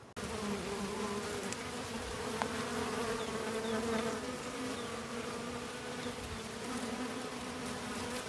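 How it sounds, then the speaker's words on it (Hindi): Bumblebees buzz steadily around yellow mustard flowers in a village field, a continuous close droning hum with wavering pitch that lasts throughout and has no voices over it. "चारों तरफ भौरों की गूंजने की ही आवाज़ आ रही है"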